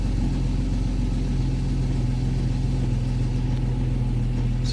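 A 1990 Jeep Cherokee XJ with the Renix 4.0 engine, freshly fitted with swapped Volvo injectors, idles steadily and loudly up close, giving a smooth, even, low rumble that never varies.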